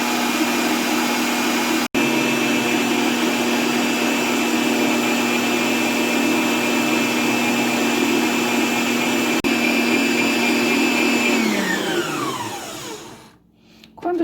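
An electric mixer fitted with a whisk beater whips cream into chantilly, a loud steady whir that runs for over ten seconds, then its pitch drops as the motor winds down and stops.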